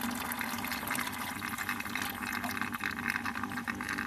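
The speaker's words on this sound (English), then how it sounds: "you see now she's just starting to suck up a bunch of air and a lot of bubbles" A bilge pump running dry in an arid-bilge setup, sucking up air and bubbles: a steady, loud gurgling, spluttering hiss of air and water with a constant low mechanical hum, continuous with no talk.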